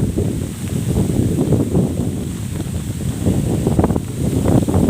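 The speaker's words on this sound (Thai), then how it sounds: "ลมกำลังมาแรงนะครับ" Strong gusting wind from Typhoon Noru sweeps outdoors in Thailand, a steady loud roaring rush with low rumbling buffeting against the microphone throughout, no voices.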